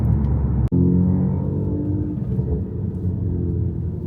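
An F8X car with a valvetronic exhaust rumbles low and loud, with a sharp cut near the start, then a steady revving drone as the car accelerates.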